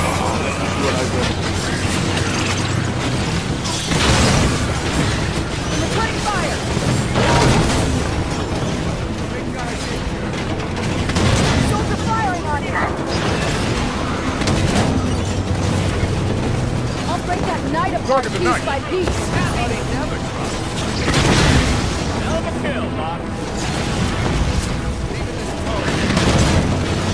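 Vehicle-mounted guns fire in Halo 5: Guardians, heavy booming blasts and explosions rolling in repeated waves over a constant loud battle din, with someone talking over the action.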